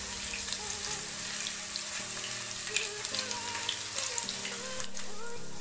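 Paneer pieces fry in a pan on a Bengali home stove, with a steady close sizzle and faint clinks over a constant hiss, no talking.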